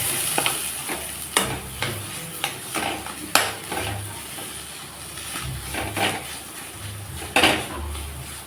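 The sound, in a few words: mixing chopped green chilli and potato mash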